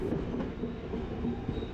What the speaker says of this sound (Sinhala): බොහොම කාලයකට පස්සේ කෝච්චියෙන් ගමේ යනවා.